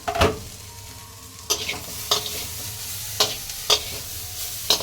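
Sago pulao being stirred in a pot, with a steady frying hiss and several distinct scraping strokes of the spoon spaced a second or so apart, loud and close.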